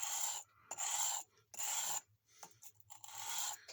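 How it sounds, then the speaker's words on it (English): Rough scraping strokes come in short bursts with brief pauses between them, close and fairly loud, like sandpaper rubbed back and forth over a surface. "I'm going to use sandpaper here"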